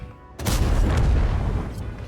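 A tank gun fires in World of Tanks, a sudden loud boom followed by a sustained rumbling roar and echo that fills the rest of the moment, with a second faint crack near the end.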